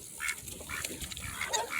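Ducks and geese feed outdoors, mixing food with drinking water, giving soft, irregular dabbling and pecking noises with faint quacky calls, fairly quiet and close, with no talking.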